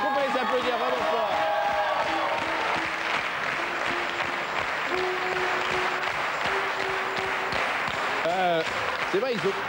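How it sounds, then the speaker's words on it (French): A studio audience at a French comedy variety show applauds loudly and steadily, dense clapping filling the space, with voices and a few tonal sounds heard over it. "je crois qu'on peut les applaudir vraiment fort"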